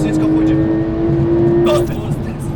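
Porsche Turbo S accelerating hard near 6,000 rpm, a loud steady engine drone rising in pitch for under two seconds before easing off, with voices talking over it.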